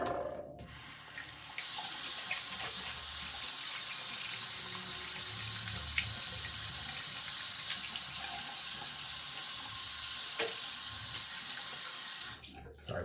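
Tap water runs steadily into a sink for about eleven seconds during a wet shave rinse, a close, even hiss broken by a few small splashes, with no talking.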